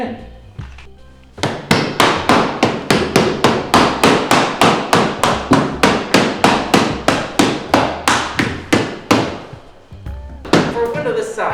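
Glazing beads are hammered into a window frame in a long run of evenly spaced, loud, sharp knocks, about two per second, close up, with brief mumbling before and after.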